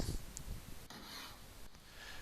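A scratch stock scraping along a wooden workpiece to cut a profile, heard as steady close rasping strokes with brief pauses between passes, no voices.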